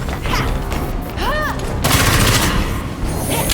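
Rapid bursts of gunfire in the Batman video game Gotham Knights, loud and dense in a game scene with other effects, a rising whine partway through, and the firing thickening into a sustained volley near the end.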